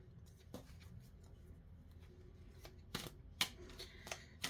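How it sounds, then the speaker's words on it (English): Cards being lightly shuffled by hand, faint soft riffles and papery slides with a few sharper snaps, quiet and close with no talking. "Do some light shuffling here."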